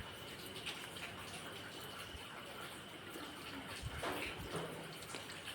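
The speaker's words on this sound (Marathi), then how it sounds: "हे बघा ओढ्याला किती पाणी आहे." A stream swollen and overflowing after two hours of heavy rain, with a faint, continuous rushing wash of flowing water heard at a distance and no voices.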